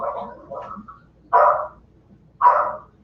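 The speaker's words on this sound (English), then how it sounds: "That's not my dog." A dog barks in the background of a remote city council meeting: a few quick yips followed by two louder, separate barks spaced about a second apart, moderately close.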